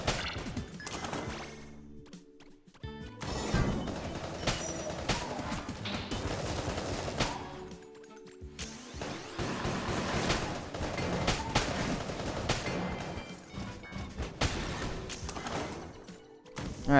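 Dense, continuous video-game gunfire from Enter the Gungeon, rapid overlapping shots and impacts blending with music and effects, steady and loud throughout with brief dips, no talk.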